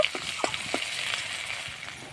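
A tempering of ginger, broken dry red chillies and a bay leaf fries in oil, crackling with a bright continuous sizzle while light stirring adds quick scraping taps.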